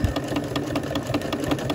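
Sewing machine stitching a fabric-wrapped rope coil with an open-toed applique foot, a fast, even mechanical whirring and rhythmic needle clatter running continuously at close range.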